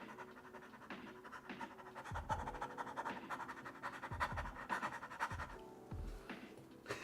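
A person imitates a dog panting, giving quick, breathy, rhythmic huffs up close with no other voices.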